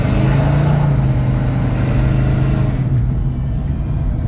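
Big-block V8 in a 1981 Chevrolet C10 pickup revving, a loud, close, throaty engine roar that holds steady and then drops off as the throttle is released near the end.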